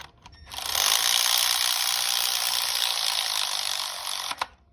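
A ratchet spins in one steady, buzzing run of rapid clicks lasting a few seconds, close by, while spark plugs are run into a GM Gen5 LT V8 engine.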